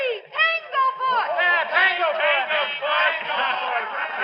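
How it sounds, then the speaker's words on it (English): A radio-drama baseball crowd in the field boxes chants the nickname "Tanglefoot" over and over in a loud, rhythmic, sing-song unison, the group voices rising and falling with each repetition. "Tanglefoot, she said, and the crowd took it up like a battle cry."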